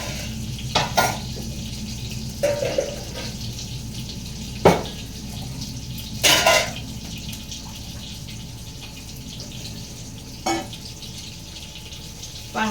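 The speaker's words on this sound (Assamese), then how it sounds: "অলপ সময় লাহে লাহে ডিমটো ভাজিব লাগে" An egg frying slowly in oil, a low continuous sizzle underneath several sharp clatters and knocks of a utensil or pan, with water-like splashes in a home kitchen.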